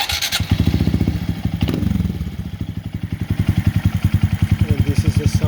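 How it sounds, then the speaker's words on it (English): A 2022 Honda Monkey motorcycle with a Yoshimura RS3 exhaust idles close by in a loud, even, rapid thumping rhythm, with a brief blip of throttle early on. "And this is the sound of the Yoshimura"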